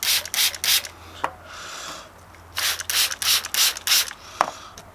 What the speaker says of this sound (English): Just a little spray in each of them,